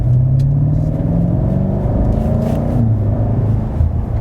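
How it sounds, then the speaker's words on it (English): A 2019 BMW M5 on a racetrack accelerates under throttle after a downshift, its engine note a loud, steady rumbling drone that climbs in pitch, heard close from on board with no talk. "Car shifts down. Now let's apply some throttle."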